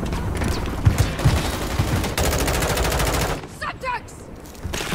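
Rapid automatic gunfire rattles loudly in Modern Warfare 3, a continuous close burst that cuts off abruptly, leaving quieter game sounds and a brief voice.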